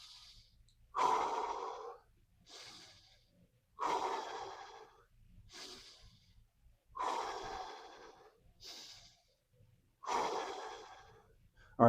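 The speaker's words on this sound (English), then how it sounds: "Three deep breaths in and out." Deep breathing after a shadow boxing workout, four slow cycles of audible sharp inhales and long exhaled sighs, close and clear with quiet pauses between breaths.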